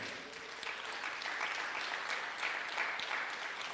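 An audience at a Dallas prostate and breast cancer symposium applauds an honored local teen, a steady dense burst of clapping that holds at an even level for several seconds with no voices over it.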